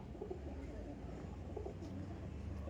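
Andhra pigeons, a red-barred (lal shira) pair kept at a pigeon sale, give a few soft, low coos close by over a steady low background hum, with no clear speech.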